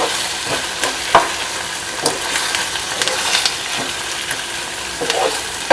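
Chilli paneer with spring onion and green coriander is tossed in a hot pan, a constant loud sizzle punctuated by scattered spatula scrapes and clacks, close with no voices.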